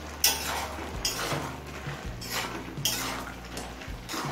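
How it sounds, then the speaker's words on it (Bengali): Hilsa fish heads go into a pan of salted water lily stems, with soft clinks of a utensil against the pan and a faint wet sizzle, close and fairly quiet. "এবার মাছের মাথাগুলো দিয়ে দেব।"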